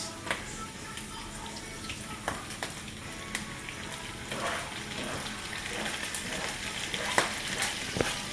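Cut vegetables frying and being stirred into meat for a Mexican breakfast, a continuous moderate sizzle with scattered spatula scrapes and clicks against the pan, rising slightly toward the end.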